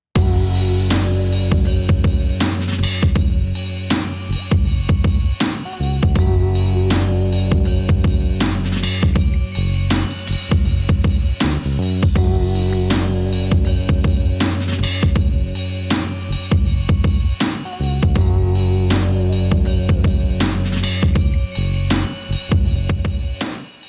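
Lo-fi hip hop beat in a gritty Griselda Records style, with jazzy bell tones over a steady thumping kick, snare and deep bass, looping continuously at full volume.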